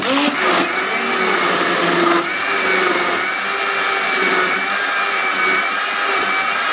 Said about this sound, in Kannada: ಈಗ ಮಿಕ್ಸಿಯಲ್ಲಿ ಹಾಕಿ ಅದನ್ನು ಚೆನ್ನಾಗಿ ಗ್ರೈಂಡ್ ಮಾಡಿ